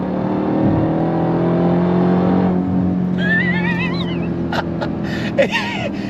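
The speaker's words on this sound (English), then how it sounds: "the torque, the power, the supercharger whine" A 2026 Dodge Durango Hellcat Jailbreak with a supercharged V8 holds a loud, steady engine drone with a high whine for the first half, then quiets as the engine eases off.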